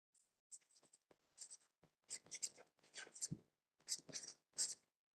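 Pen scratching on paper in short, quiet strokes and bursts with brief pauses between, close and soft like note-taking while solving probability problems.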